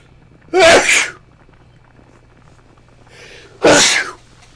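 Two loud, close sneezes roughly three seconds apart, each a sharp burst, over a quiet low hum in a Final Fantasy XVI cutscene.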